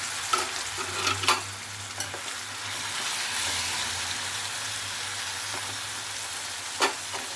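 Cut mutton pieces fry in a hot pan with onions, a steady close sizzle with a few sharp clinks of stirring near the start and end, no talk.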